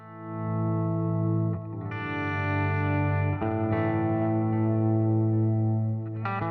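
Electric guitar played through a BOSS DM-2W Waza Craft delay pedal, a cheap instrument with a hazy, congested tone, ringing sustained chords with delayed repeats, restruck about three times, close and steady with no talk.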